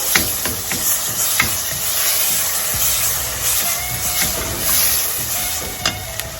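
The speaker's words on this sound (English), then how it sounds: "So now I'm going to add the ginger garlic paste." Ginger garlic paste, two tablespoons, sizzles and hisses in a hot pan while being stir fried for a methi mutton and chicken dish, a steady close crackle with occasional scrape and stir noises throughout.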